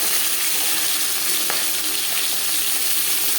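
Pieces of silver carp frying in a pan of hot oil, a steady dense sizzle that holds at an even level throughout with no talking.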